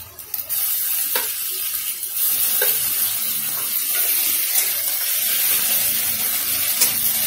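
Water poured into a pan of mustard fish curry with small puti fish and ground ginger, cumin and green chilli paste, a steady loud hissing rush with a couple of sharp clinks near the start.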